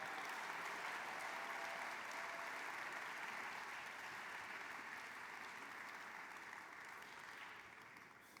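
A crowd at a university gala applauds an honoree, sustained dense clapping heard alone and fairly distant, steady at first and gradually fading toward the end.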